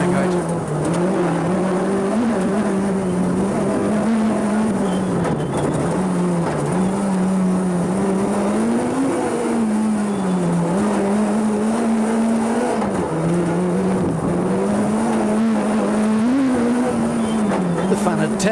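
A Ford Escort rally car on 13-inch wheels driven tail-out on a stage of the 2010 Donegal International Rally, its engine droning loud and continuous with shifting pitch as it slides, with faint commentary underneath.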